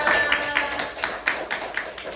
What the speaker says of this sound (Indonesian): Tepuk tangannya dong buat Mbak Vera